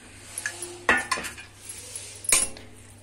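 A spoon stirs grated carrots for halwa in a pan over low heat, making scattered scrapes and a couple of sharp metallic clinks against the pan over a faint background hum, with no voices.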